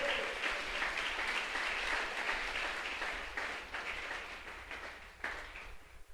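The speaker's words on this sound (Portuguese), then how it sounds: "Você pode aplaudir ao Eterno?" A church congregation applauds together, a dense, steady wash of many hands clapping at close range that holds for several seconds and tapers slightly toward the end, with no talking over it.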